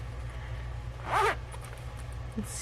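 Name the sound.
zipper of a small fabric zippered pouch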